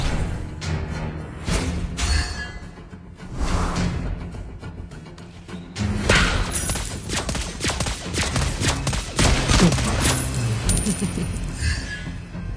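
Gunfire from Lesley, the sniper hero in the mobile game Mobile Legends, crackles in repeated bursts and volleys over a dense, busy mix of game effects and music, with no break between shots.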